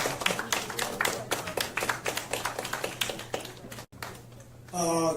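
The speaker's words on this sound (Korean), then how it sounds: "다시 한번 큰 박수 부탁드리겠습니다" A crowd at a Korean political press conference claps in quick, dense bursts that fade out, followed by a moment of quiet before a voice begins speaking.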